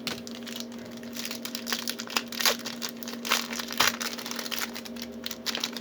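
Foil wrapper of a 2019 WWE Smackdown trading card pack crinkles and tears in short irregular bursts at close range, with a steady background hum and no talk.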